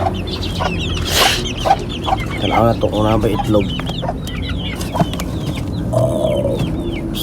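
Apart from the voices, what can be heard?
chickens clucking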